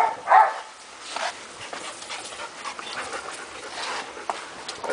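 Dogs on a farm, a close yelp or whimper at the start followed by panting, snuffling and small movement noises from several dogs at moderate level.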